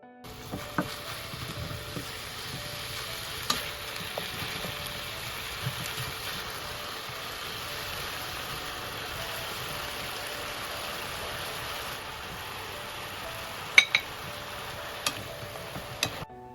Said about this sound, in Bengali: রসুন ভাজা হয়ে গেলে আমি এর মধ্যে দিয়ে দেবো চিকেনের কিমা আর এটাকে আমি প্রায় তিন থেকে চার মিনিট পর্যন্ত ভালোভাবে নেড়ে নেব